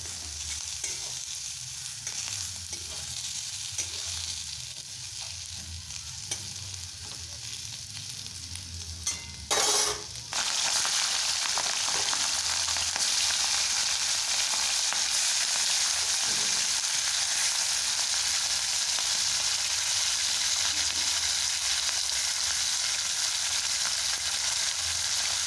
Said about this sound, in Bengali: एखन भाजछि चिचिंगा भाजा